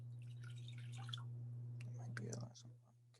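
Warm water is poured into small bowls for a home chemistry activity, heard as a faint trickle and a few soft drips near the end, under a steady low electrical hum.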